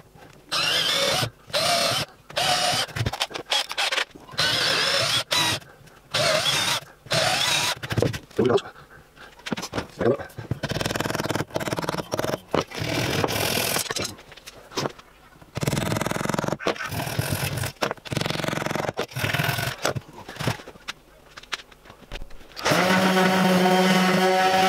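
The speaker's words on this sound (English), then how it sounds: "we're going to drill a series of pilot holes where I've marked" A power drill whirs in repeated short bursts close by, drilling pilot holes in pallet wood, pausing briefly between holes.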